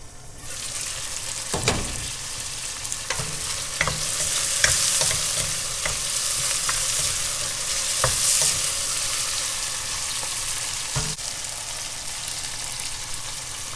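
Tomato softens in a covered pan with a continuous, even sizzle and a few scattered stirring knocks, fairly close and without talk.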